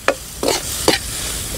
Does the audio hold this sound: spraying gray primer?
no